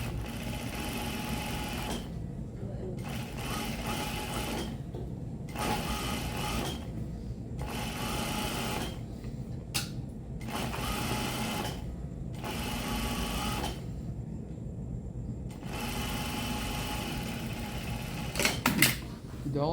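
A sewing machine edge stitching a striped shirt placket runs in repeated bursts of rapid, steady stitching, separated by short pauses, heard close and fairly quiet.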